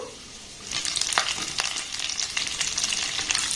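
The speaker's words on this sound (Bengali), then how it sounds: "আর এটা ভাজার সময় গ্যাসের ফ্লেমটাকে একদম লো রাখবেন" Dry fruits and two kinds of raisins fry gently over a low flame for semolina laddoos, giving a steady crackling sizzle with stirring scrapes throughout.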